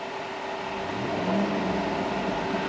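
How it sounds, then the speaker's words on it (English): A 2011 Cadillac Escalade Platinum with a 6.2 liter V8 engine, running close by as the revs rise and ease off. The steady engine drone swells midway, then settles again. "I'm going to rev the engine"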